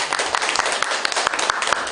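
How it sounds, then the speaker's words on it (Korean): Dense, steady applause from an audience at a policy roundtable between a National Assembly member and a federation of small business and merchant associations, with many hands clapping continuously and fairly loudly throughout. "큰 박수 부탁드립니다."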